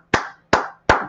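Three slow, evenly spaced hand claps, each sharp and close with a short decay, sounding alone with no talk.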